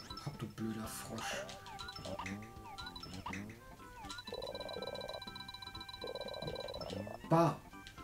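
Cartoonish frog croaks from the SNES game Yoshi's Island recur amid bouncy game music and sound effects, with a player talking over the action.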